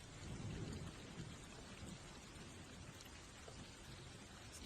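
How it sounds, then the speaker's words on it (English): Steady rain pelting down with low rumbling thunder in the distance, a constant wash of drops with a deeper roll early on, faint overall and without voices. "The rain pelted down from above, thunder crashing in the distance"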